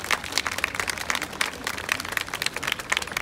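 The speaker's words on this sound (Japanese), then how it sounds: "大きな拍手でお迎えください" Audience at a tennis tournament event applauds steadily as players make their entrance, a dense patter of many hands clapping at moderate volume throughout.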